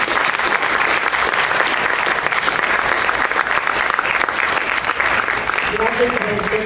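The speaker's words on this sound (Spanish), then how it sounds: "Un nuevo aplauso, por favor, a nuestro" A live audience applauds a guest at a Spanish-language talk, steady dense clapping from the whole room filling the clip at full loudness, with a voice starting to speak under it near the end.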